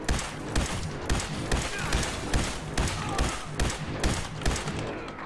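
A harpoon gun in Fallout 4's Far Harbor fires a steady series of heavy thumping shots, about two per second, close and forceful, over a dense layer of game noise.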